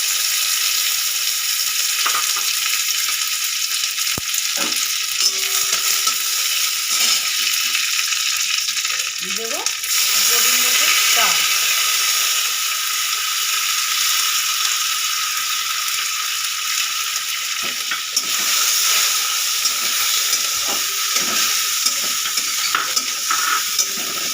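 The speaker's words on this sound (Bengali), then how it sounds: "ঘিটা গলে গেছে এবার দিয়ে দেবো কাজু কিশমিশ" Cashews and raisins fry in melted ghee in a pan for a fish-head murighonto, giving a steady close sizzle with scattered clicks and scrapes of stirring throughout.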